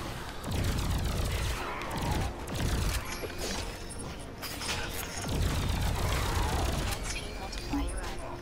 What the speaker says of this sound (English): Here's the energy gun in action.